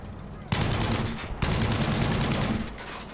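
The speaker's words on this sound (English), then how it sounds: "I keep trying to get fire on him" Dense gunfire bursts in the video game Battlefield V, two sustained loud volleys of rapid shots separated by a brief gap, close and harsh.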